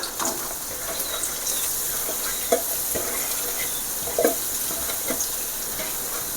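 Beans, cabbage and carrots sautéing in hot oil for masala chicken noodles, a steady close sizzle with a few scraping stirs of the spatula and no talking.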